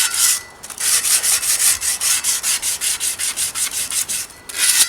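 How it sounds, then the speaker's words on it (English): Rhythmic back-and-forth scratching of sandpaper rubbed by hand, about a dozen even strokes after a brief pause, close and fairly loud. "Who here finds it easier just sanding with your hand than in a sanding block?"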